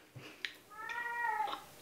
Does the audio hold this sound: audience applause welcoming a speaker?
no